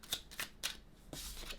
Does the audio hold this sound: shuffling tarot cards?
yes